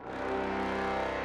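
Brass plays a sustained, swelling chord from the Poseidon sample library, rich and steady, swelling slightly in the first moments and then holding evenly, with no voice.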